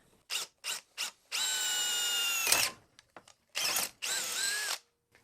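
A power drill works on an engine valve guide in a series of whines: three short bursts, then a long sustained run, a grinding catch, and two more steady runs close up.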